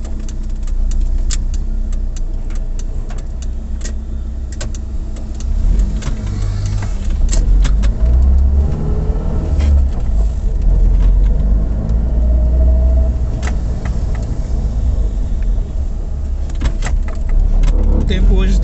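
A car is started and pulls out onto a main road on a cloudy, rainy day, its engine a low steady hum with clicks from inside the cabin while a person talks over it.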